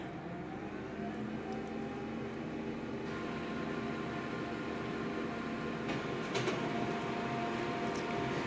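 Colour laser printer running a print job, a steady mechanical whir and hum with faint rhythmic clicks, then a brief clatter of higher rattling near the end, with no talk.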